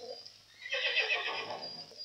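A horse in a stable whinnies, a loud drawn-out neigh rising and wavering for over a second, fairly close, after a brief quieter lead-in.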